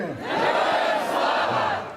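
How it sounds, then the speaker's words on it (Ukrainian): A rally crowd on a frosty square in Sumy shouts slogans in unison, a loud swelling collective yell of many voices lasting about two seconds. "вигуки гучнішають"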